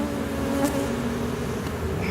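Honey bees swarm around an open beehive, making a dense, steady buzz close by with no pause.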